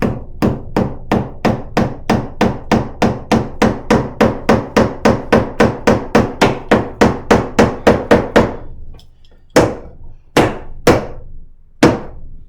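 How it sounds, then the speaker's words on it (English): Hammer blows drive nails into wooden birdhouse boards, a steady run of about twenty sharp, loud strikes in quick rhythm, then a brief pause and a few slower, separate hits near the end, with no talking. "While she's nailing"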